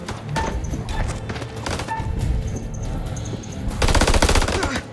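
Rapid machine gun fire in a combat firefight in the video game House of Ashes, sustained bursts of loud gunshots with a heavier volley near the end.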